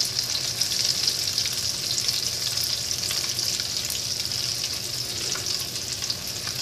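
Mac and cheese sticks deep-fry in hot oil, giving an even, dense bubbling hiss that holds steady throughout, with no voices over it.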